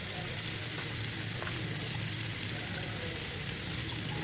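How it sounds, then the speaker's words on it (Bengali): Bitter gourd fries with prawns and potato in a pan, a steady even sizzle held at close range, faint and unbroken, with no clear voices. "চিংড়ি মাছ দিয়ে করলা ভাজি করছি"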